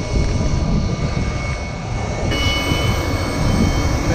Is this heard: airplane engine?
yes